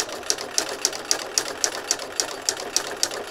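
A sewing machine works a utility stitch around a fabric circle, each needle stroke a sharp clack in a steady, even rhythm of about three per second, close and without talk.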